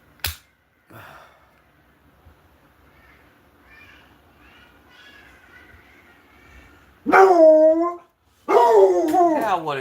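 A pet dog named Jack barks indoors in a few short bursts, loud and close, with quieter whimpers and faint room noise in between.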